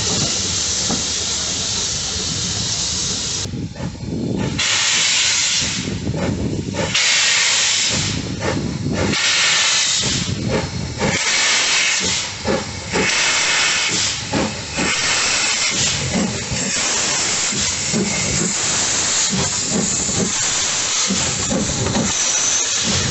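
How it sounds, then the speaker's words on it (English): A train departs Weybourne station: loud continuous steam hiss and rumble fill the whole stretch, pulsing with rhythmic chuffs as it pulls away close by, with no talk over it. "we've inadvertently arrived at Weybour station just as there's a train about to depart."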